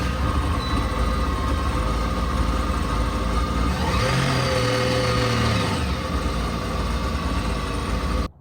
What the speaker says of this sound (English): Let's try firing it up and see if it sounds any better.